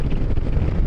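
Steady roaring wind buffeting against a motorcycle helmet with a poorly sealing visor during a winter ride, a loud low rumble with constant gusting noise and no voices.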